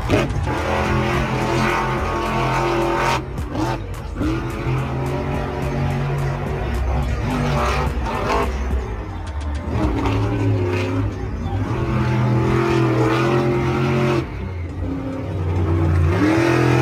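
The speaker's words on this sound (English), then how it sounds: "Monster Mutt Dalmatian, a fan favorite. This truck is designed to look like a playful yet tough dog." Monster Mutt Dalmatian monster truck, built to look like a playful tough dog, roaring around the track, its engine revving and surging repeatedly with loud mid-pitched growls and whines over continuous crowd and arena noise.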